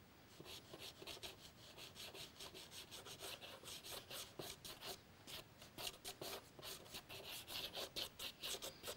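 Soft pastel dragged horizontally across paper while laying in a flat beach, a continuous rhythmic scratchy rubbing in quick back-and-forth strokes, close and fairly even, with no talking.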